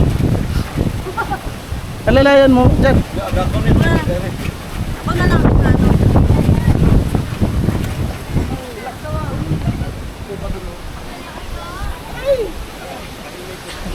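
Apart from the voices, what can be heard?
wind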